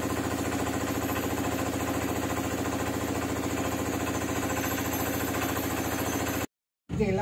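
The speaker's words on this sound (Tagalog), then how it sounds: "Yung motor ni sir, pinapatay." A motorcycle engine idles steadily and close by, a continuous mechanical drone, then is switched off and cuts out abruptly near the end of the clip.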